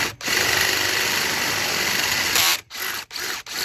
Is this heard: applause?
no